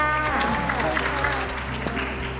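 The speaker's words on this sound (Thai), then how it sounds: "คนเชียร์ไงเยอะ" A crowd cheers and applauds for Faii, a Thai makeup artist who works with her feet, in a steady, dense wash of clapping and voices that holds for the whole moment.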